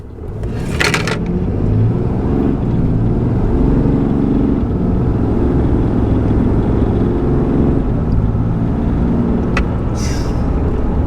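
A RAM 3500 pickup with a Mega HO Cummins diesel accelerates hard from 0 to 60, its loud, steady engine drone filling the cabin at full throttle, with a short clatter at the start and another near the end.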